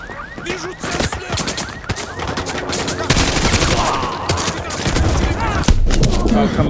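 Gunfire fills a Modern Warfare 2 battle in a neighborhood, dense and loud, with rapid machine-gun bursts, single shots and thuds layered over each other, siren-like tones, and shouting voices mixed into the din.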